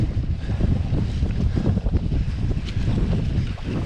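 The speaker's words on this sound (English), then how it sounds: "A little windy." Gusty wind roars and buffets against a microphone while a rider cycles a muddy cyclocross course, a constant low, rough rumble filling the whole stretch with no voices.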